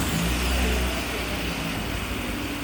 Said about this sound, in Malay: sekarang kita akan buat cubaan untuk start lah enjin ni